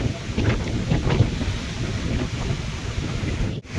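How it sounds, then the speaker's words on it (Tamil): Strong wind at sea aboard a moving ship roars steadily against the microphone, with a rushing sea wash beneath it and a brief dropout near the end. "காற்று பொதுவாக பயங்கரமாக இருக்கும்"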